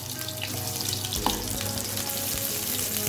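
Kebabs shallow frying in oil in a pan give a steady, dense sizzle with small pops and crackles throughout, close and fairly loud, with no talking.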